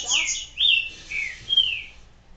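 Small birds in Resident Evil 4 chirp and tweet in a quick run of bright, high whistled calls, several short sweeping notes one after another, fairly close and clear over a quiet background.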